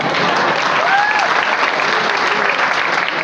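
An audience claps steadily in dense, continuous applause for the whole stretch, loud and close, with a faint voice briefly audible over the crowd.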